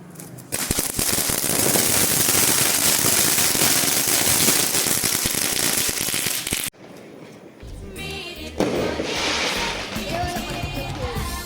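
Rapid, loud crackling bursts of Diwali firecrackers going off in dense strings for several seconds, then a brief pause and more bangs with voices mixed in.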